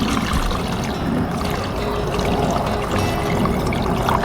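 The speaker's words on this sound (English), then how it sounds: "Give it a little shake, make sure that all the air gets out." A bottle of homemade Puerto Rican pique hot sauce is shaken to work out air bubbles, giving a continuous, close, wet sloshing rattle without pause.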